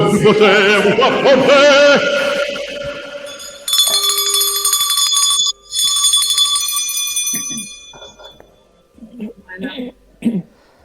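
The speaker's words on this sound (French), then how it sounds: "Clochette." A small bell jingles in a bright ringing burst after some talk, then a few fainter rings and speech follow as it fades.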